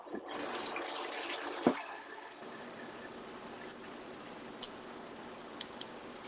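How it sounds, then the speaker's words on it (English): Water runs from a tap into a roasting container in a home kitchen, a steady broadband rushing stream throughout, with a brief knock near the start and a couple of faint clicks later. "I'm going to fill this up with water."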